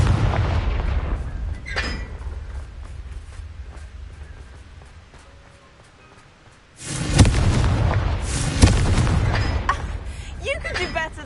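A Confringo explosion spell from the game Hogwarts Legacy goes off in booming blasts, a rumbling first burst followed by a louder, sharper second explosion, with voices speaking.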